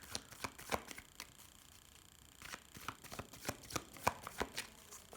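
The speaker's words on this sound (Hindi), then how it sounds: "ओके, मैं शफल कर रही हूँ" Tarot cards shuffled by hand, soft papery riffles and light taps in quick uneven bursts, close and quiet, with a brief lull partway through.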